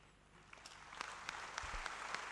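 Spectators at the 2008 World Squash Championships semifinal between Amr Shabana and Ramy Ashour clap for a rally, scattered applause building and thickening over a couple of seconds.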